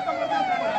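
An ambulance siren wails steadily over a short stretch with a wavering high tone, fairly loud, with traffic rumble underneath and no talking, the ambulance held up in a road blocked for a VIP convoy.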